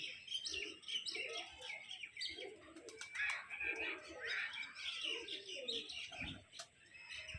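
Pigeons coo softly and repeatedly, with chirps and small bird calls scattered around them, close by and fairly quiet.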